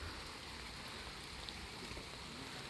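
Steady rain pours down at a construction camp during a storm, a dense continuous hiss of drops on surfaces, loud and close, with no voices over it.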